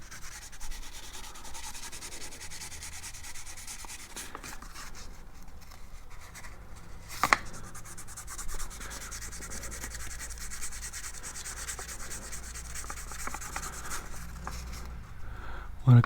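Corroded trim switch connector surfaces are scrubbed clean with an abrasive cloth. A close, continuous scratchy rubbing runs for the whole stretch, with a brief sharp knock partway through and another near the end.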